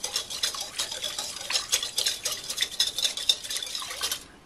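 A spoon stirs a sugar mixture in a bowl, giving a rapid series of light scraping and clinking strokes in an uneven rhythm, close and fairly quiet, with no talking.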